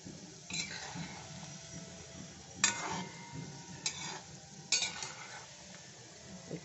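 Madan katkati snack frying slowly in oil, a quiet bubbling sizzle with a few sharper stirring scrapes and clinks of a utensil against the pan.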